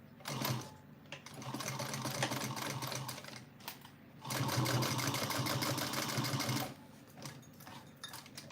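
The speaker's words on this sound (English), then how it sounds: "Sewing at 1/4 of an inch." A sewing machine stitches a quarter-inch seam on a small box bag, heard close up as a rapid, even mechanical whirr. It runs in two long bursts broken by short pauses, with a few clicks between them.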